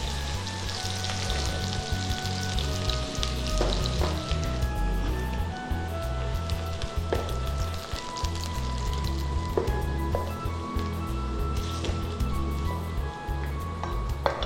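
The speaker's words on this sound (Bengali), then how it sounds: "আগে একটু পেঁয়াজ কুচি দেব। এই শব্দটা হচ্ছে ফোড়নের মজা।" Chopped onion sizzles in hot oil while cooking a chicken and bottle gourd curry, a steady close frying hiss with scattered crackles and an occasional clink of a utensil.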